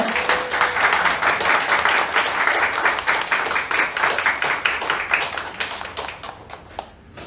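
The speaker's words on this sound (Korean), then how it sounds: "여러분들 박수로 한번 환영해 주시겠습니까?" A church congregation claps together at a Sunday worship service, a dense, loud run of hand claps that carries on for several seconds before fading and stopping near the end.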